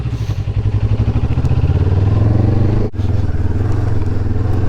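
A motorcycle rides along a muddy dirt road on Argentina's Ruta 41 in Santa Cruz, its engine a loud, steady, close rumble with a brief dip near the middle.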